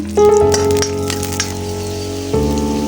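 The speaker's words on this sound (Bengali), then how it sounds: "এখন কড়াইয়ে দিয়ে দিলাম তেল, তারপর এখানে দিয়ে দিলাম রসুন" Garlic dropped into hot oil in a wok, cooking for a Bengali bou bhat meal; a loud close sizzle bursts up at once and runs steadily, with a few metallic clinks and a tonal hum running through it.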